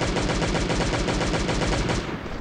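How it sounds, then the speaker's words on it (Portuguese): A machine gun fires in the video game Last Day On Earth, a rapid, unbroken stream of loud, close shots lasting a couple of seconds before tapering slightly. "Vamos trocar pra metranca aqui."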